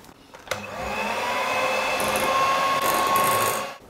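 An electric hand mixer whirs steadily for about three seconds as it beats a lemon bar batter of lemon juice and zest, starting abruptly and cutting off cleanly at the end, close and continuous with no talking.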